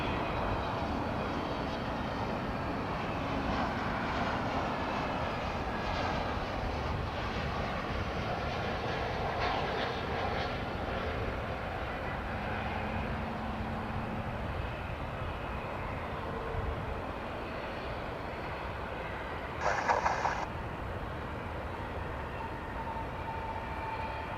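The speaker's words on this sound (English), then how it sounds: "Well, just in time, we've got an aircraft." An American Airlines airliner arriving from San Antonio lands at DFW airport, heard as a steady, broad jet engine roar that holds for the whole stretch at moderate distance, with a brief sharp burst near the end.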